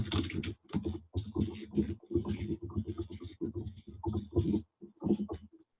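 Text is typed on a mobile messaging app's on-screen keyboard, a quick irregular run of soft taps and clicks with brief pauses between bursts.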